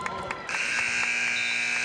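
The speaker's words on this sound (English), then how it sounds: "And there is the horn." A buzzer horn sounds loudly and steadily at a women's college basketball game, Hope College against Adrian College, marking the end of the third quarter. It follows a brief stretch of arena noise and holds unbroken for more than a second.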